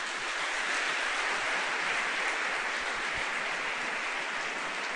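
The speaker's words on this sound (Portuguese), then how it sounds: "vamos dar uma salva de palmas a Jesus" Sustained applause from a church congregation, steady and dense clapping filling the room throughout with no talk over it.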